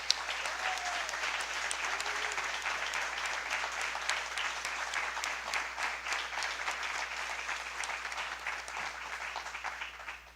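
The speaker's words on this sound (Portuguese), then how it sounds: "e merecem um forte aplauso" Steady audience applause fills a migration and refugee conference hall, a dense even clatter of many hands sustained for about ten seconds before tapering slightly at the end.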